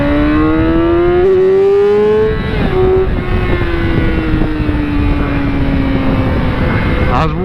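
A Yamaha R6 motorcycle engine revs on the road, its pitch rising to a loud whine, then dropping and easing off under wind noise.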